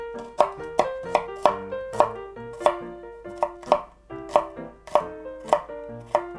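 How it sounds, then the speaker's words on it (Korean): A knife chops chili peppers steadily on a cutting board, crisp close-up strikes in an even rhythm, about a dozen cuts with ringing tones behind them. "이것도 똑같은 사이즈로 같이 썰어 주세요"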